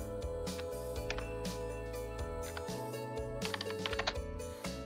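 Typing on a computer keyboard, a steady run of close, quick key clicks over a constant tonal hum, with no talking.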